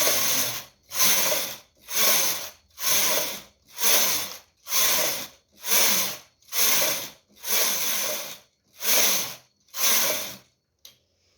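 A knitting machine carriage works rows of baby leggings, sweeping back and forth about eleven times in an even, rhythmic series of loud rasping passes with brief pauses between, and no voices.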